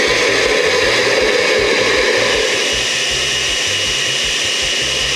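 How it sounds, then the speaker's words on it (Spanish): A blender whirs steadily at full speed while blending a chili salsa and a thin stream of olive oil is poured in, forming a loud, continuous motor drone with no talking throughout. "lo hagas con la licuadora en movimiento"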